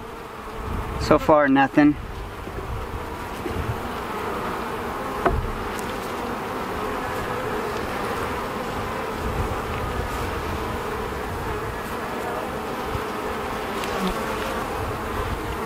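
Honey bees buzz on a frame pulled from a deep hive box: a dense, steady hum close by for the whole stretch, with a brief clatter near the start and someone speaking briefly.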